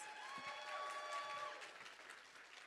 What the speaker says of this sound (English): could we please have one more big round of applause for your Miss Grand Australia national finalists